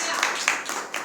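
A church congregation at a Sunday prayer meeting clapping loudly, a dense wash of many hands with a few sharper individual claps standing out, brief and close.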